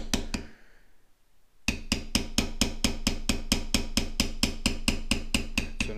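A tooling mallet striking a bevelling tool to work a floral pattern into leather, loud close rapid even taps, a few at first, a brief pause, then a long steady run of strikes.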